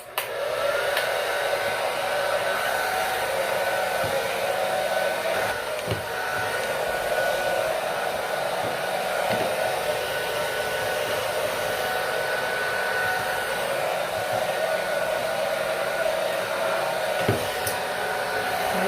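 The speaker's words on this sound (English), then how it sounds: "I'm going to blow my hair. It's gonna be a little noisy." A handheld hair dryer blows steadily on someone's hair, a loud continuous broadband whoosh lasting the whole time with faint shifts as it moves.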